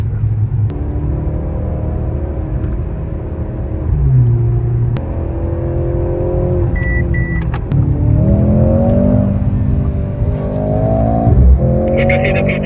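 A Mercedes-AMG car accelerates hard in a drag race, its engine note climbing through several loud revving pulls with gear changes, heard from inside the car without talk.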